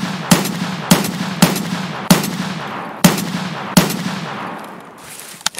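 Gunshots in the video game Escape From Tarkov, set on the Woods map: six sharp, loud single shots spaced unevenly about half a second to a second apart, each trailing a long outdoor echo, with no talking.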